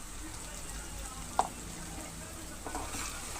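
Chopped onions and green chilies frying in a pan make a soft, even sizzle that holds steady throughout, with one brief clink partway, close and fairly quiet.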